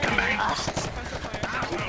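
Rapid gunfire from a VR gang role-play video game, a dense stream of crackling shots filling the whole moment at close range, with voices mixed underneath.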